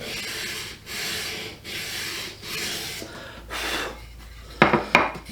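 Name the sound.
sanding a wooden gun stock with a sanding block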